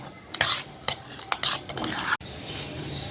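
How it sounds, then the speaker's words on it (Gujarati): A spoon stirs idada (Gujarati white dhokla) batter in a bowl with several quick, scraping strokes close by, followed by a steadier, softer scraping. "હવે આને આપણે પહેલાં હલાવી લઈશું"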